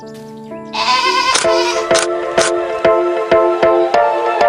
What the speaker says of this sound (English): Welcome to a morning with the goats.